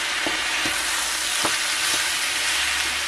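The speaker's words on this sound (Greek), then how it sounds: "καπνιστή πάπρικα, πιπέρι και συνεχίζουμε το ανακάτεμα" Smoked paprika and pepper sizzle in oil in a frying pan, a steady close hiss with a few soft knocks of the spoon as the mixture is stirred, no voices.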